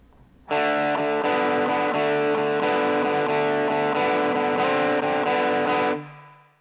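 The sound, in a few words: electric guitar with distortion playing the phrase on strings 4 and 3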